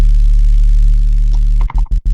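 A harsh, distorted buzzing drone, a drum and bass sound with an EQ notch cut from the middle, holds steady, then breaks into several short, choppy bursts of gritty filtered noise.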